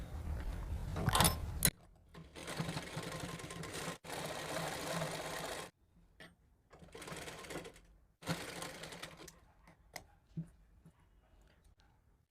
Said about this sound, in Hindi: अब हम इसमें सिलाई देते हैं।